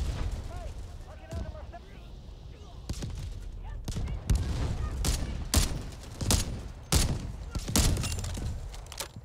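Gunfire in the shooter game Delta Force: Hawk Ops, loud bursts of rapid shots and heavy blasts repeating through the second half, with someone talking over the action.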